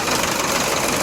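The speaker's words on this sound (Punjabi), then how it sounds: "ਇਹ ਨਵਾਂ ਇੰਜਨ ਹੋਇਆ ਇਹ ਪੁਰਾਣਾ ਇੰਜਨ ਹੈ ਤਾਂ ਕਰਕੇ ਫਰਕ ਪੈ ਗਿਆ" A 5911 tractor engine runs at idle nearby, a steady, throbbing low rumble with a slight knocking vibration and no talk over it.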